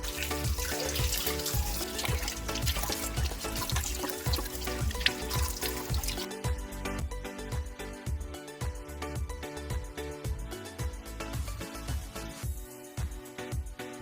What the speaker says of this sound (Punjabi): ਹੁਣ ਆਪਾਂ ਚੰਗੀ ਤਰ੍ਹਾਂ ਇਹਨਾਂ ਨੂੰ ਮਲ ਕੇ ਧੋਵਾਂਗੇ